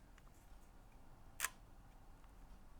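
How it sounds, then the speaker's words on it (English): A Rollei camera with a leaf shutter fires once, a single quick, soft metallic click standing alone against a quiet room. "that battery appears to be working because we can hear the shutter fire. It's got a leaf shutter."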